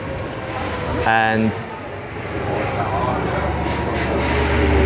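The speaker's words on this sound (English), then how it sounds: "And here comes the subway." A subway train arriving at a station, a steady rumble of rail noise and hiss building through the clip, with a short burst of speech near the start.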